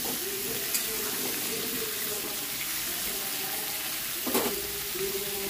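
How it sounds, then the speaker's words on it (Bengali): Potato and pumpkin pieces stir-frying together in a pan, giving a steady close hiss and sizzle throughout, with a couple of brief utensil scrapes. "দিয়ে আলু আর কুমড়ো একসাথে নেড়ে চেড়ে ভেজে নেব"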